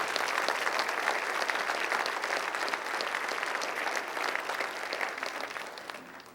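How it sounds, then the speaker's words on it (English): An audience gives sustained, dense applause for members of a police department at a civic state-of-the-city event, steady and loud throughout with no speech over it. "Let's give them the deserved round of applause they deserve."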